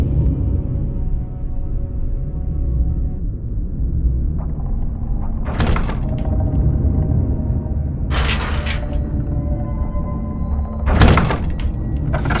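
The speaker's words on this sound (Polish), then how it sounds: "ja postaram się odblokować te zaregulowane drzwi" A locked door is worked open in Minecraft: a low rumbling bed with a few sharp mechanical clunks and knocks standing out, roughly three distinct bursts spaced a few seconds apart.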